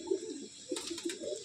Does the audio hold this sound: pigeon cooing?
yes